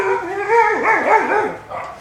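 Dogs bark and howl near and loud in a workshop where clear-coat is being sprayed, a wavering howl rising and falling over a couple of seconds.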